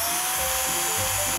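A power drill whines at a steady high pitch while boring holes into a couch, running continuously and close up before it cuts off abruptly at the end.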